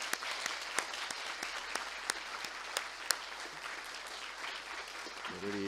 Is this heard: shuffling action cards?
no